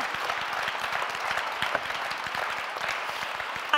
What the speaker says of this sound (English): we really need an extra applause